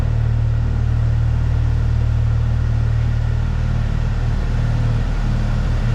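A 2015 Porsche 911 GT3 idles steadily through its dual exhaust, a loud, close, low rumble with strong harmonic bands that holds constant for the whole stretch, with no voices.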